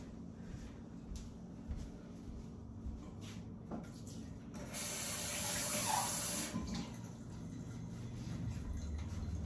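Water runs steadily from a tap to fill a container with clean water for rinsing acrylic paint brushes, growing louder and fuller midway as the flow strengthens, close by with no talking.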